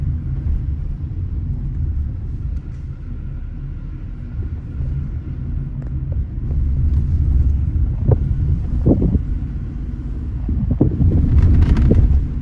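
A Peugeot 208 Active three-door with a 1.2 VTi 82 hp engine rumbles along under steady road and wind noise. A few dull suspension thumps sound as it rolls over speed bumps.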